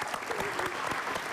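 A studio audience on a family game show claps, a brief, steady burst of many hands with some faint voices mixed in.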